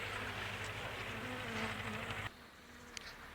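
Carniolan honey bees buzzing as they settle into a winter cluster, a close, steady droning hum that cuts off abruptly partway, leaving a quieter background.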